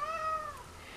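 A house cat meows indoors beside someone knitting mittens, one drawn-out, close meow that rises and then slides downward, heard alone over a quiet room.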